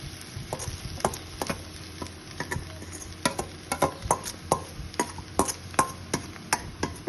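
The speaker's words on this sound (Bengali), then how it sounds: "এখন দিয়ে দেবো সেদ্ধ করা তরকা ডালগুলো।" Boiled tarka dal lentils being added and stirred into an egg and spice mixture in a pan, a repeated rhythm of close spoon scrapes and clinks over a soft steady sizzle, without talking.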